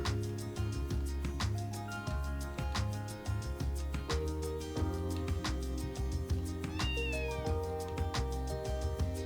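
A cat meows in the video game Trails from Zero, two short mews heard over the game's steady background music.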